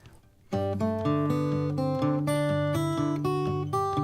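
Fingerstyle guitar playing a melody on the offbeat over a steady thumb bass line, clear plucked notes ringing close after a brief quiet start.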